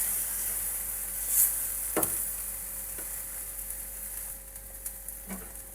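Omelette frying in a hot pan just after being flipped, giving a steady soft sizzle throughout with a few brief taps of the spatula against the pan.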